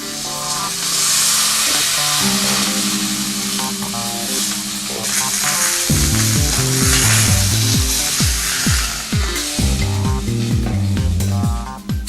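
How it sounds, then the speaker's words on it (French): Meat sears in a Kuhn Rikon Durotherm pot, a continuous close sizzle broken by scraping and clanking utensil sounds as pieces are turned, with no speech. "Tournez-la et rôtissez l'autre côté exactement de la même manière."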